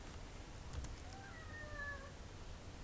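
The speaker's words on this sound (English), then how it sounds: "meowing right now while I'm commentating" A pet cat named Roxy meows faintly in the background, with a few thin, drawn-out cries from somewhere off to the side under a steady hum of room noise.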